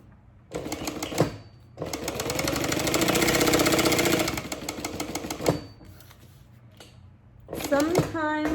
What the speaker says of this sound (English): I'm just going to sew this box.